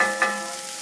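Onions and celery sweating in a frying pan for a home shepherd's pie, a soft steady sizzle with a brief stir of the spoon near the start, close and fairly quiet.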